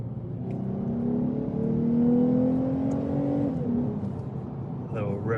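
A small car's engine climbs steadily in pitch through the gears, drops briefly on a downshift, then pulls hard again. The tone is loud, close and sustained, with a brief voice near the end.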